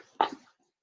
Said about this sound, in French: je vous présente mon chien, Nandasso